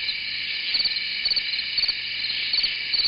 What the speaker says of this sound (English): Crickets. Crickets?